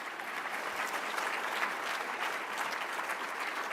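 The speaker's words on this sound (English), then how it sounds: "you can clap" Dense, even audience applause fills a library fundraiser luncheon hall, a continuous close wash of many hands clapping without pause and no voices over it.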